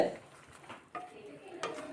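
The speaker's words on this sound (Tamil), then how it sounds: "தேங்காய் துருள் சேர்த்துட்டு நல்லா கலந்து விடலாம்" Soft scraping and clinking of a spoon stirring grated coconut through a thick spinach and moong dal stew in a pot, a few light knocks against the rim.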